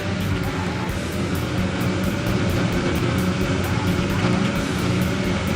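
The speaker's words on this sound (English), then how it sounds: "we are now revving up to 5 red lights here in Abu Dhabi, and we get underway" Racing cars roar off the line at an Abu Dhabi race in an F1-style video game, a loud, dense engine drone that stays steady throughout with no break.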